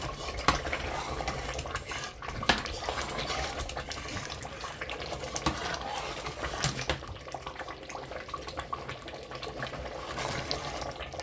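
Black chickpea curry with tomatoes sizzles and is stirred in a pan over full heat, a steady close frying hiss with scraping spoon strokes throughout, no talking.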